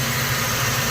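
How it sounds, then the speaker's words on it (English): A 2000 Ford Mustang GT with a 4.6 V8, abandoned in a parking lot, idles close up with a loud, steady, deep rumble, alone with no talk. "Wow, man, the engine sounds so good."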